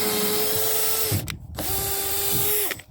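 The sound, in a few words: cordless drill with 6 amp hour battery drilling through a wood knot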